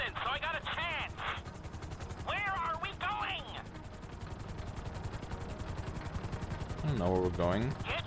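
Rapid gunfire from a helicopter in the video game GTA 5, a steady stream of shots over rotor noise with bursts of chirping, swooping electronic tones.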